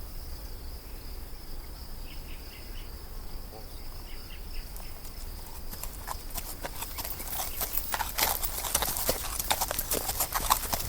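Horses' hooves clip-clop, growing louder and more rapid as they approach, over a continuous chorus of crickets and buzzing insects.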